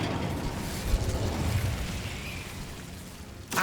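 An Incendio fire spell cast in Hogwarts Legacy, a steady roaring, crackling rumble of flame that swells and holds before a sharper burst at the very end.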